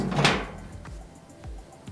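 The metal door being fitted onto a QubeStov rotating wood-fired pizza oven, one sharp close clank followed by a few lighter knocks and scrapes.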